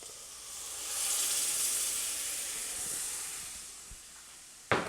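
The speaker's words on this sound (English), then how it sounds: "So now I'm gonna add the broth." Broth poured into a hot pan for a chicken pot pie sauce sets off a steady, broad hiss and sizzle that swells after a second and holds to the end, closing on a sharp clatter.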